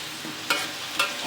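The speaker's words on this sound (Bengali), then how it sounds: "বন্ধুরা ফুলকপিগুলো মশলার সাথে ভালো করে মিশিয়ে নেব।" Cauliflower being stirred with spices in a pan: a soft frying hiss with two brief scraping strokes of a spoon, close and short, no voices.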